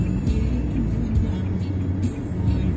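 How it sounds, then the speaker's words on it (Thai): A car driving on a road in Korat, Thailand, while delivering goods to a customer: a steady, close engine and tyre rumble that continues without a break. "พอดีขับรถมาส่งของลูกค้า"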